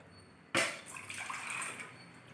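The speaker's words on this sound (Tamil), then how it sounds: "போதுமான அளவு தண்ணி ஊற்றி கரைச்சிக்கலாம்." Water poured into a pot of pearl millet and finger millet porridge, a sudden splash then steady close pouring and sloshing, no speech.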